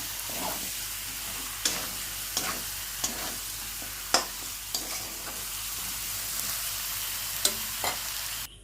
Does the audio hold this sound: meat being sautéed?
yes